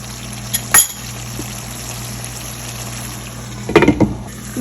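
Goat liver with masala spices cooks in a pan, giving a steady low bubbling sizzle throughout, with a couple of brief louder clinks or stirring knocks standing out near the start and again near the end.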